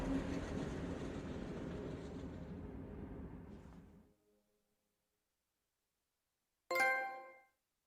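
A train in the video game Final Fantasy 7 Remake rumbles along steadily and then fades into silence, followed by a short, bright chime-like ring near the end.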